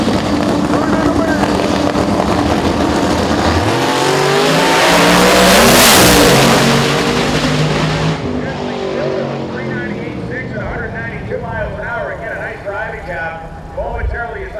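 Drag race cars in qualifying tear down the strip, a loud engine roar building then fading, overlapped by an announcer's commentary throughout.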